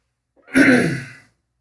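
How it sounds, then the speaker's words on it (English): A single close throat clearing, a short rough rasp lasting under a second, surrounded by silence. "Let me clear my throat."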